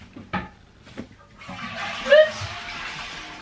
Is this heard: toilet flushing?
yes